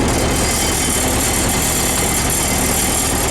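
A Ford 2N tractor engine idles steadily up close outdoors in cold, windy weather, a loud, even mechanical chug with no pauses or voices.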